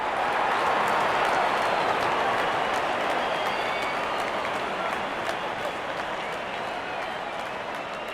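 A large stadium crowd in a cricket video game gives sustained, loud applause and cheering. The noise is a dense, even roar that eases slightly toward the end.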